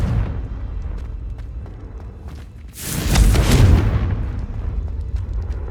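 A Confringo fire spell bursts in Hogwarts Legacy with a loud, booming explosion that swells suddenly, then decays into a rumbling tail over a low background hum.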